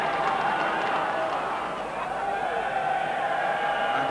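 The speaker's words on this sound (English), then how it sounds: "a lot of noise, the crowd making a tremendous din" A crowd at the 1993 Melrose rugby sevens tournament keeps up a steady, unbroken roar, a loud, distant wash of massed voices with no standout shouts.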